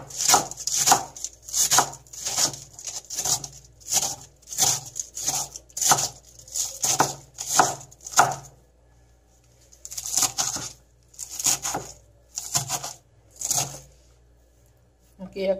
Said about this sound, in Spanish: Así ya estamos picando lo que es nuestra lechuga.